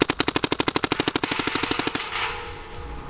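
An SP Shocker AMP paintball gun rips off a rapid burst of about two dozen sharp, evenly spaced shots over two seconds, close and loud, followed by a softer hiss and rattle.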